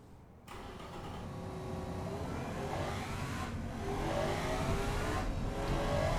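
A 1969 supercar engine in the game Automation roars steadily and builds louder on an airfield track, revving up through gear shifts as it speeds along, with no talking.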